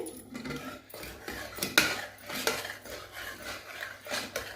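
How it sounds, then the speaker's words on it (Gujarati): Metal spoon scraping and clinking against a pot while stirring chutney into thick dal, with irregular strokes close by and no voices. "એક ટેબલસ્પૂન ભરીને ચટણી નાખી દઈશું અને બધું જ આપણે સારી રીતે મિક્સ કરી લેવાનું છે"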